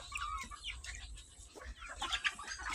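Pet chickens and other poultry cluck softly while being fed, with scattered faint calls and pecking close by at low volume and no speech.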